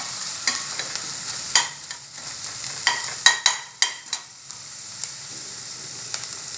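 Capsicum stirred and frying in a pan for a vegetable frankie filling: a steady soft sizzle with repeated sharp spatula scrapes and clacks against the pan, close and alone with no talking.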